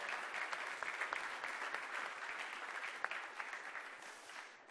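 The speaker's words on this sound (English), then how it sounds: "So give them a round of applause and thank them" An audience at the ZBrush Summit, a digital sculpting conference, gives a sustained round of applause, a dense, even wash of clapping heard from within the hall that tapers slightly at the end.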